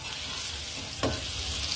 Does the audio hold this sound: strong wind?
no